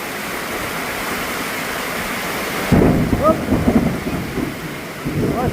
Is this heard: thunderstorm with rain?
yes